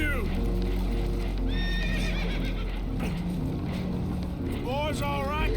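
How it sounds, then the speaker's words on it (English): Spooked horses whinny repeatedly aboard a boat taking on water in Red Dead Redemption 2, shrill neighs rising over a constant rushing roar of water and engine, with voices talking underneath. "Horses are spooked, and we're taking on water."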